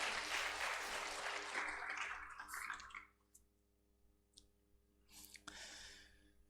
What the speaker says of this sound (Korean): 우리 간사님 박수 부탁드리겠습니다.